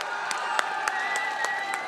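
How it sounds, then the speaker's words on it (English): An arena crowd at the 2015 ESL ESEA Pro League CS:GO final in Dubai applauds and cheers for Virtus.pro, with dense, steady clapping and scattered whoops carrying on without a break. "please, a round of applause for Virtus.pro"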